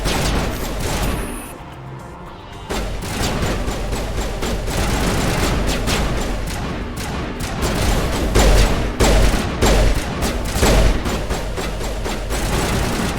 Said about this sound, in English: I want to try the pistol. Right? Ooh, I can probably shoot containers